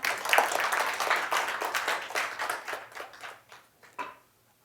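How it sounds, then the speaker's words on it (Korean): An audience at a health lecture breaks into a burst of applause that starts dense and fairly loud, then thins into scattered claps and dies out within a few seconds. "맞으면 박수 한번 치셔야죠"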